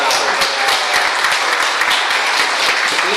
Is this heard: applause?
yes